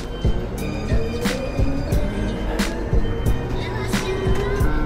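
A metro train rolls along in Taiwan, heard from inside a car with a rumbling low drone and a rhythmic series of clacks and thumps from the wheels. Occasional brief voices mix in.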